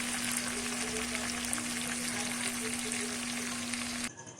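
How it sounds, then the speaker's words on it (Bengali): Chicken frying in a pan after braising, being stirred: a steady, dense sizzle with faint scraping runs close and unbroken, then cuts off abruptly near the end. "চিকেনটাকে আবার একটু ভালো করে নেড়ে দিলাম।"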